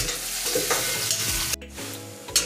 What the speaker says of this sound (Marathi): तर कांदा परततोय तोपर्यंत थांबूया आपण।